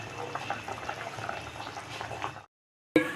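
Parshe fish curry simmers in a wok, a continuous bubbling and burbling of liquid that cuts off briefly near the end before a short clatter returns.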